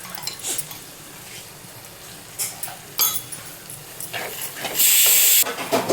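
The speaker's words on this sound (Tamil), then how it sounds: "மிளகாத்தூள் எல்லாத்தையும் போட்டு லோ ஃப்ளேமில் வச்சு வதக்கணும்" Chili powder and chicken masala sauté in ghee on a low flame for a fenugreek gravy chicken, with a soft steady hiss, occasional clinks of a spoon against the pan and a brief louder sizzle near the end.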